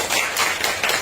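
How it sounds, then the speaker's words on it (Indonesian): An audience of students clapping together, a close, loud burst of applause with a few rhythmic swells, lasting about a second. "tepuk tangan dulu"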